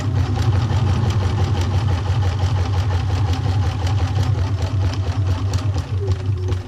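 A sewing machine stitches a buttonhole over gimp, a loud, steady rapid hum with a fast, even mechanical chatter running continuously throughout, close and alone.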